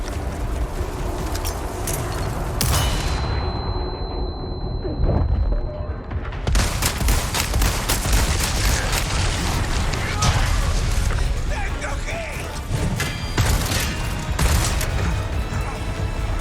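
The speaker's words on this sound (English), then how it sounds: "A lot of rockets, man." Rocket explosions in the Resident Evil 4 Remake Separate Ways finale, loud booming blasts and crashing debris over heavy combat noise, broken by a brief muffled lull before the roar resumes.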